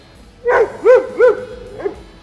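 Dogs greet someone arriving home, giving three loud, close barks in quick succession, then a softer fourth yip.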